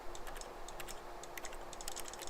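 Rapid, uneven typing on a computer keyboard in The Stanley Parable, keys clattering in quick bursts close up with no talk over it.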